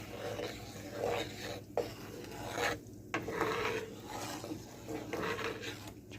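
A wooden utensil stirs butter in a pan for brown butter bites, giving a steady close scraping and rubbing with brief pauses, heard alone without talk.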